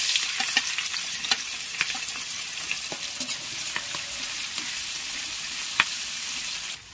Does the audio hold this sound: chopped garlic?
yes